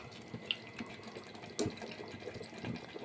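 Water is poured into a pan of mutton curry with spiced masala, a faint, quiet trickle and splash with a few small clinks against the pot.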